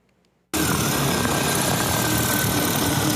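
An agricultural drone flying over farmland starts abruptly after a brief quiet, then a loud, steady, close propeller whine and rotor roar continues without pause.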